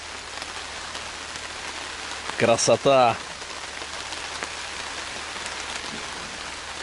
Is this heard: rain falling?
yes